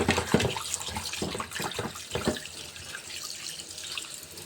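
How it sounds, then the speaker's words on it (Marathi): Fish roe being washed under running tap water in a kitchen sink, a steady gush of water broken by several splashy bursts as the roe is rinsed by hand. "आणि हे आपण याला स्वच्छ धुवून घेणार आहे."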